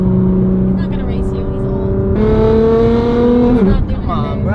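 A car cruises on the freeway beside a McLaren supercar, its engine holding a loud steady drone that steps up in pitch, then drops as it eases off, with people talking over it.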